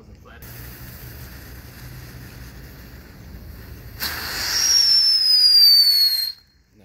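A Crater Cruiser novelty firework from Brother Pyrotechnics fires outdoors, first as a steady background rumble, then a sudden loud burst and a shrill whistle that glides slowly downward for about two seconds before cutting off.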